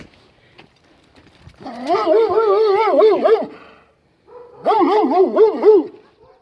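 A Karabash dog lets out two long, wavering howling whines, close and fairly loud, separated by a short silence.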